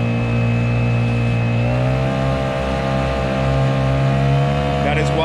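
A Honda 5 outboard motor on a Nucanoe Pursuit runs wide open at full throttle with a stainless steel two-blade prop, giving a loud, steady, sustained engine drone with no drop in pitch across the whole stretch.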